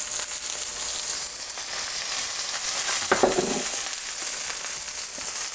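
Eggplant fries in good Greek olive oil, giving a loud, steady sizzle throughout with a brief burst of stirring or turning near the middle and no talk.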